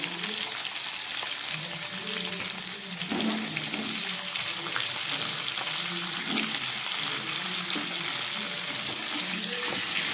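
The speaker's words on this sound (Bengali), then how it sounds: "এই তেলের মধ্যে আমি সবজিগুলো ভেজে নিচ্ছি প্রথমে কপিটা আর আলুটা একটু ভেজে নিই" Cauliflower and potato pieces frying in oil, a steady, close sizzle that holds level throughout, with faint stirring and bubbling textures underneath.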